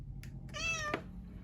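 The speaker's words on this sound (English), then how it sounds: "Hello, cat." A cat meows once, a single drawn-out call with a clear rising and falling pitch, heard close by over a steady low hum in a workshop where an ultrasonic cleaner is being repaired.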